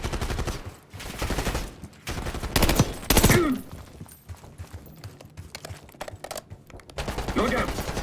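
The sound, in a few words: shotgun gunfire in video game Black Ops 6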